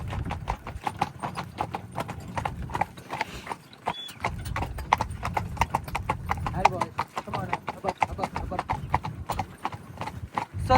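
Horses' hooves clip-clop steadily and up close as they pull a carriage on the Ballyfin Demesne estate, a fast, even rhythm of hoof strikes running throughout, with a brief whinny and voices in the background.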